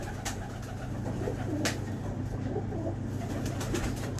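Pigeons coo softly amid a steady low hum in a loft of prized breeding pigeons in Pakistan, with a few brief sharper bird calls breaking through the continuous background.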